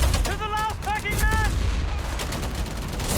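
Machine gun fire in the World War II strategy game Company of Heroes 3, loud rapid bursts of gunfire layered with dense battle noise and a brief electronic tone, with no talk.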